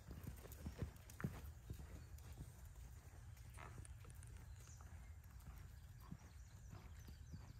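Hoofbeats of a horse at a collected lope in a Western dressage test drum in a rolling three-beat rhythm on arena footing, with a snort or two and light background noise.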